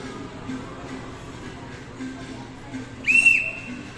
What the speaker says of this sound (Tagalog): Stop mo na yung pito.